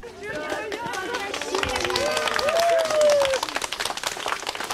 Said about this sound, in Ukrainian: Свого героя люди зустрічають оплесками.